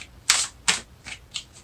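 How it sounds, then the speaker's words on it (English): Tarot cards are shuffled nearby in a handful of sharp riffling bursts, two loud strokes followed by softer ones in an uneven rhythm, with no voices. "I'm just shuffling the cards"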